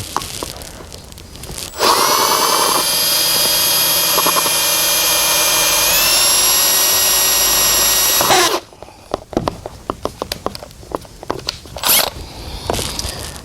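A power drill bores out a rivet on a 1952 Chevy pickup vent window, a loud steady whine running for several seconds before stopping, followed by scattered clicks and handling knocks.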